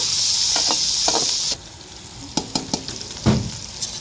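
Onions browning in a pan make a loud, steady sizzle for about a second and a half, then stop. A few sharp clinks and scrapes of stirring utensils against the pan follow.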